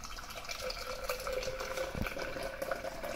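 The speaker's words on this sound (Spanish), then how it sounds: "Una vez lo tenemos bien frío, echamos leche," Chilled milk is poured into cold orange juice, giving a close, continuous liquid trickle and gurgle for a few seconds.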